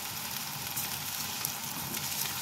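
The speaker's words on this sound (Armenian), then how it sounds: "միսը 250 գրամ է սիրելիներս, և սկսում ենք տապակել նաև միսը" Onion and 250 grams of minced chicken frying in a pan, a steady close sizzle with faint crackles and no talk.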